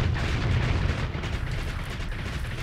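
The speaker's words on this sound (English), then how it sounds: "Fire the main gun." Heavy main gun of a ship firing in the space combat game Starsector, a continuous loud low rumble of booming blasts with no clear gaps, close and sustained throughout.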